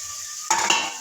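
Potatoes for vada pav tipped into a hot pan and stirred, a sudden scraping clatter and sizzle midway through, following a quieter steady hiss, brief and close with no talk.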